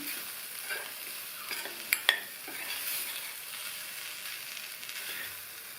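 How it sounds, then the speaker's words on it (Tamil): Beans and toor dal stir-fry sizzles softly in a pan as it is mixed, a quiet steady hiss with a couple of sharp utensil clinks against the pan, no talking. "நல்லா ஒரு தடவை மிக்ஸ் பண்ணி விட்டுடலாம்"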